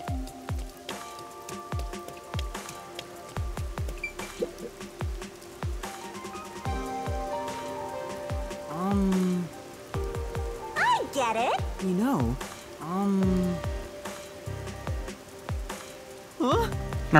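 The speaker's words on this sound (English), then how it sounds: "Red rain falls." Rain falls in the video game Master Detective Archives Rain Code, a steady patter beneath game music and voices talking.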